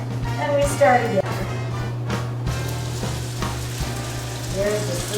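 Potato latkes fry in hot oil with a steady sizzle that runs the whole time. People talk over it at close range.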